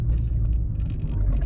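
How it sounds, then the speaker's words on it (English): Low steady road rumble from mud-terrain tires fills a car cabin, a continuous droning hum heard from inside with no voices. "the noise that I basically have now in the car is basically the mud terrain tires"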